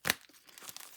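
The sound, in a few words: drawing a card from the vermin deck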